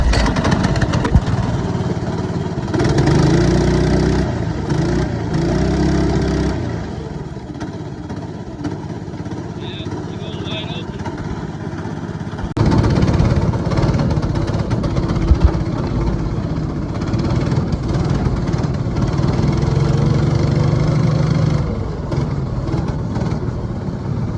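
Snowmobile-cart engine running on a stand with a clutch awaiting replacement, a steady mid-pitched idle that swells louder in bursts around three and thirteen seconds before settling back down, with no talk.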